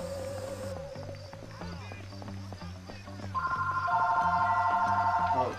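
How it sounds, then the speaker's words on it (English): Mobile phone ringtone from the video game Bully Scholarship Edition: a steady electronic ring joins partway through and grows louder, layered over the game's thumping background music. "Oh, that is my phone."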